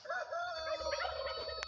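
Turkeys gobbling nearby, a warbling run of calls with overlapping fowl voices and no talk.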